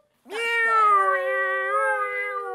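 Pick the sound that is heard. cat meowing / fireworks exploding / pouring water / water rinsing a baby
cat meowing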